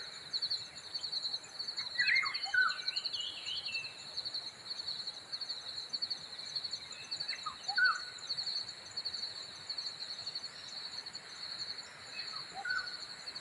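Scattered bird chirps over a steady high insect drone, with a few calls near the start and more spaced out later, fairly faint, no talking.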